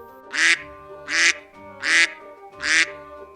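Ducks by the water being fed bread give four loud, nasal quacks, evenly spaced and close by, with brief pauses between each call.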